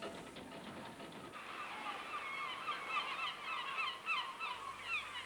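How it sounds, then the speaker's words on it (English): Hungry gannets calling near a fishing trawler at sea as the trawl gear is hauled in: faint, distant, honking cries repeating irregularly over a soft background hum. "Some hungry gannets are there too."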